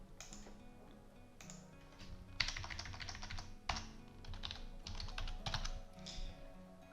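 Someone types code on a computer keyboard in irregular bursts of close, clicky keystrokes with brief pauses between runs, with no talking over it.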